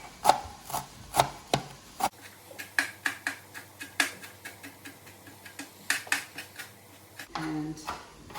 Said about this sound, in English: we'll chop up about a 1/3 of a cup of parsley